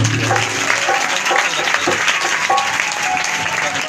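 Loud applause from a church congregation at a village worship night in Gurdaspur, dense clapping sustained throughout, close and strong, with voices mixed in beneath.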